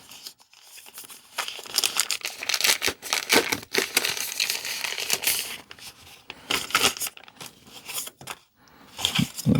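DJI Pocket 4 camera accessories being pulled out of a bag during unboxing, close loud bursts of crinkling plastic and paper rustling in irregular clusters, with no speech.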